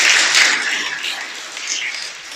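A church congregation applauds, a dense, steady wash of clapping that starts loud and eases slightly across the short stretch, with no other sound standing out.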